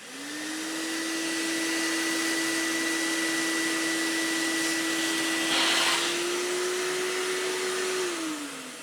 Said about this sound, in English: Let's flip the switch on for the vacuum.